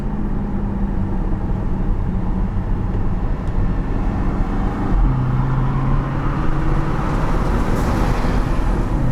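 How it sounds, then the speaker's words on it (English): A 680 HP Porsche Panamera Turbo S E-Hybrid downshifting in everyday driving gives a loud, steady engine drone with road and tire roar and a slight shift in engine pitch partway through. "Downshifts."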